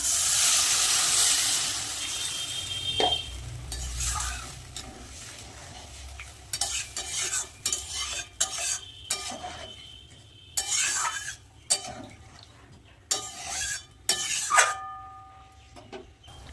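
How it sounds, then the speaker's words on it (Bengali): Fish curry gravy bubbling in a pan, with a hissing sizzle at the start, then intermittent scrapes and clinks of a spoon stirring against the pan over a quieter simmer, heard up close. "ঝোল কিন্তু ফুটে গেছে"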